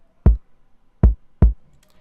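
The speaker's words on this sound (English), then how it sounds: "I've got my preset which I've made called the Power Kick Distortion, and it's gonna sound like this" A heavily distorted kick drum from a custom power kick distortion preset in FL Studio, struck three times in a loose pattern with deep, punchy, saturated booms standing alone.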